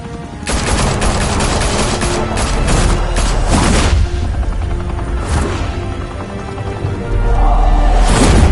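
Gunfire in the video game Batman: The Telltale Series breaks out in loud, rapid machine-gun bursts and heavy booms over a helicopter's steady rotor drone, with a brief lull before the shooting surges again.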